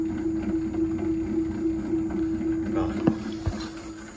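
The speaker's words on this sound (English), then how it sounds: "So the motor is now spinning" A 36V brushless BLDC motor spinning under 500W speed controllers, giving a steady, close, low electric hum with faint background noise and a couple of brief knocks near the end.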